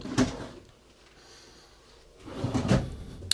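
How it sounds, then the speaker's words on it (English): Soft-close drawers shut twice inside a 2027 KZ Durango 302RLT fifth wheel, each a short, muffled thud close by, separated by a quiet pause of a couple of seconds. "And still soft closed drawers."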